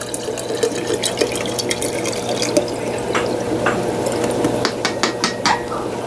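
A standard 16.9-ounce plastic water bottle being poured into a container for hatching brine shrimp, giving a steady close gurgle and splash with irregular glugging ticks throughout.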